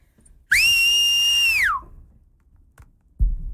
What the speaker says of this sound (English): So can you whistle, and we will make you prove it